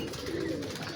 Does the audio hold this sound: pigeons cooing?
yes